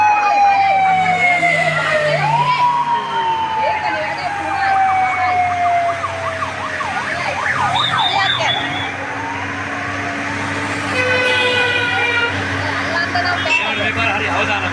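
Several police vehicles pass along a road near Kegalle during a bicycle ride, their loud wailing sirens sweeping up and down over steady traffic rumble for the whole stretch.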